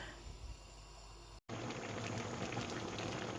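A pot of eggplant vegetable salad bubbles at a steady simmer, a soft watery hiss broken by a brief silent cut before the boiling resumes a bit louder.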